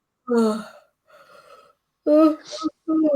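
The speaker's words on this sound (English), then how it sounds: "I'm yawning more now I'm on screen." A drawn-out human yawn with a breathy, voiced opening, a softer middle stretch and another strong voiced burst, heard close and alone without speech.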